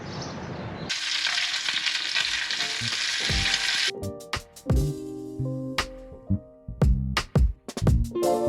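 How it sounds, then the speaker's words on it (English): Bacon and eggs fry in a pan at breakfast with a bright, steady sizzle. Clinks and scraping stirs follow as the hiss drops away, and the sounds stay close and moderately loud. "He's putting some bacon in our eggs."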